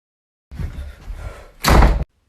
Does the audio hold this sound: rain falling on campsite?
no